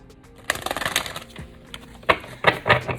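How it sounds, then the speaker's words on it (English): A deck of tarot cards is shuffled by hand in a few quick, crisp bursts of riffling and tapping, close and fairly quiet with short pauses between. "Let me just give it one more shuffle right now."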